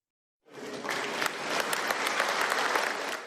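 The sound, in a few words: imperialist faction members applauding energetically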